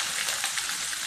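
Steady, bright sizzle of ginger garlic paste hitting hot oil in a pan while vegetable jalfrezi is being cooked, close and continuous with no voices.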